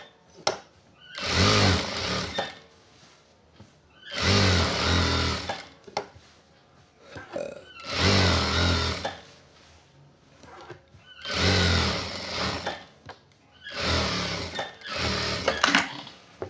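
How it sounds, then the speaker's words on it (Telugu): A sewing machine stitches the shoulder seam of a half-sleeve shirt in five loud bursts of about two seconds each, separated by short pauses. "దీని మీద ఒక కుట్టు వేసుకుందాం"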